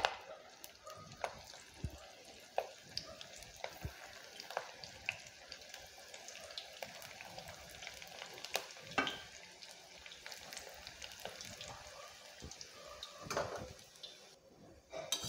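Methi mutke dumplings drop into hot oil and fry with a soft, bubbling sizzle, broken by clinks and scrapes of a utensil, fairly quiet and close, with no talking.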